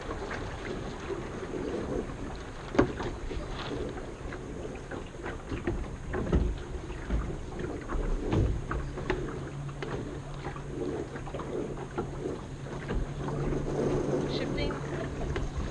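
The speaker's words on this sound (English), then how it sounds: "The wind's right in our face." Steady wind rushes and buffets across the microphone aboard a Flying Scot sailboat during a race, with water and hull noise mixed in and a low hum later on.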